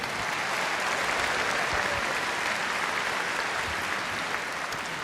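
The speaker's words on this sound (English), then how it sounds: "please give a round of applause to everyone who is working so hard in Scotland, in Wales, and across the United Kingdom." A large conference audience at The Next Step Conference in Birmingham applauds steadily, a broad continuous wash of clapping heard at moderate distance with no voices over it.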